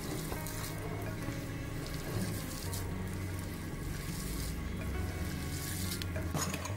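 Mashed potato, salt and sago being mixed together by hand for sabudana vada, a soft continuous squelching and stirring up close, steady and moderately quiet with no voices.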